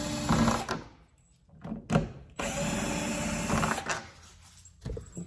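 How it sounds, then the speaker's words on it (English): A power drill backs out four screws from a boat panel, whirring loudly in several separate runs with short pauses between them, close by and with no talk. "So you simply find them and back out these 4 screws."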